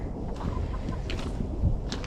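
Backyard chickens clucking faintly, a few short calls scattered over a soft low background, sounding restless as though waiting to be fed.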